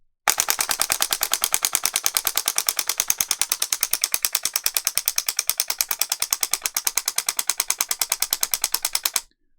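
A Sinden light gun's recoil solenoid fires at an adjusted rate of fire, producing a rapid, evenly spaced clatter of mechanical clicks for about nine seconds, sharp and close, with no voices.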